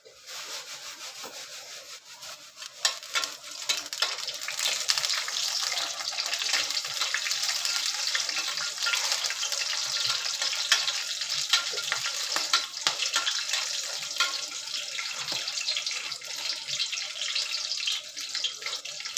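Whole spices sizzle in hot oil in a heated kadai for a Malvani cashew curry, a steady crackling hiss that holds for the whole stretch with no talking.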